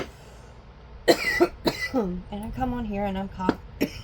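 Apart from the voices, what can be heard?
woman coughing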